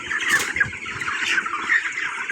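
Twenty-two-day-old broiler chickens in a poultry farm shed cheep and chirp continuously, a dense, busy chorus of small peeping calls at moderate volume with no talk.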